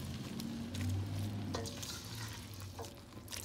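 Broccoli is tossed in a pan on a stove set to medium, with a soft, low sizzle and a few scraping and clinking stirs, close but quiet.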